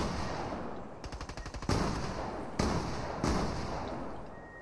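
Fortnite gunfire: a quick burst of rapid automatic shots followed by three louder single blasts with echoing tails, close and sharp with no talk.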